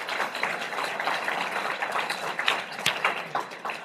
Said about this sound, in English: Give Dr. Block a round of applause.